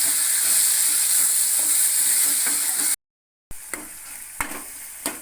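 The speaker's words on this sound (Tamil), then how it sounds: "இப்போ வந்து தக்காளி நல்லா வதங்கி நல்ல பேஸ்ட் பதவுக்கு வந்துடட்டும்." Tomatoes sauté with salt in a pan while being cooked down to a paste, a loud steady sizzle and hiss, then after a short silence softer frying with a few spatula scrapes.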